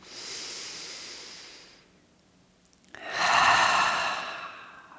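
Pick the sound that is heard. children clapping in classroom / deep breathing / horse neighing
deep breathing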